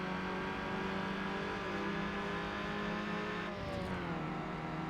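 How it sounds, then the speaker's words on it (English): A Volkswagen Golf's engine in Need for Speed Underground drones steadily with an organ-like harmonic tone, loud and continuous, with a brief dip in pitch near the end and no voices. "I always like the engine sound of this Golf. It sounds like a pipe organ or something."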